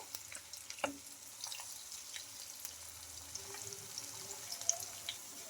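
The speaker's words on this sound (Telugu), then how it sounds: "ఇంకా అటు ఇటు తిప్పుకుంటూ బాగా క్రిస్పీగా వచ్చే వరకు అయితే ఫ్రై చేసుకోవాలి" Sabudana snacks deep-frying in hot oil in a kadai, turned side to side until crisp, giving a steady soft sizzle and bubbling with a few sharper pops and clinks, fairly quiet and close.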